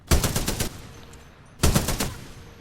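Two bursts of rapid automatic gunfire from the player's weapon in Titanfall 2, each lasting about half a second, separated by a brief pause, loud and close.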